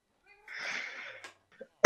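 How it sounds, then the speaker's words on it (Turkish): A house cat gives a single drawn-out meow close by, followed by a couple of small clicks and a sharp knock at the end; no talk. "Bu şekilde arada kedi sesleri duyabilirsiniz."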